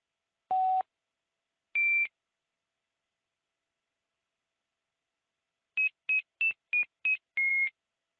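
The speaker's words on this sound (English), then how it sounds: "So we play a series of tones to synchronize the two sides" Synchronization tones from an analog phone simulator call: two separate steady beeps at different pitches, then after a pause a quick run of six short beeps, clean and electronic against silence.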